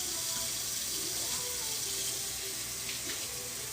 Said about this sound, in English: So you want to rinse it until it runs clear.